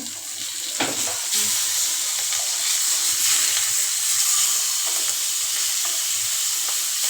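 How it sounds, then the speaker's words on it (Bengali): Fish frying in a pan makes a close, loud, steady hiss and crackle of hot oil, with a few stirring knocks early on. "আর এদিকে হচ্ছে যে মাছটা ভাজতেছি"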